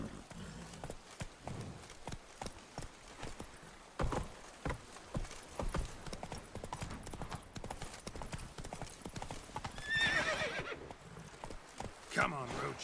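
Horse hooves clip-clop at a gallop in The Witcher 3: Blood and Wine, a steady rapid beat with a whinny, under game music and occasional speech.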